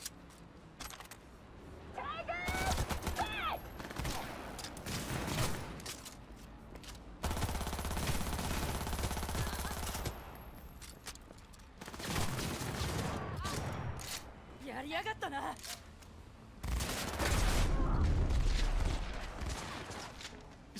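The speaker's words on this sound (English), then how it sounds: "Why are you shooting at me," Gunfire in the video game Cyberpunk 2077 comes in bursts of rapid shots between quieter gaps. A player talks over some of the shooting.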